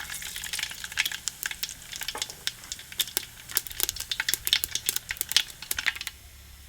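Mustard seeds and cumin sizzle in hot oil at close range, giving rapid, irregular crackles and pops over a soft frying hiss. The crackling stays busy throughout and fades slightly near the end, with no talking.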